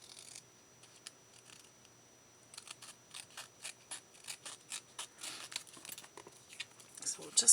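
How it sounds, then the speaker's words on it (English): Scissors snip through paper while trimming a vintage-style craft card, a run of close, crisp rhythmic cuts that quickens over several seconds after a quieter stretch of light paper handling. "I think I'm just going to cut this paper back"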